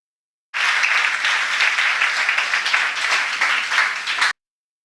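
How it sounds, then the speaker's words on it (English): An audience at a devotional talk applauds a team's presentation, with steady, dense clapping filling about four seconds before stopping abruptly. No voices are heard. "Let us give them an applause."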